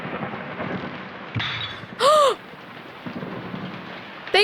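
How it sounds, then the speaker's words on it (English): A thunderstorm in the video game Prince Care Guide, with a rumble of thunder and rain-like noise under a steady wash, and a sharp electronic crackle near the middle. "The thunderstorm!"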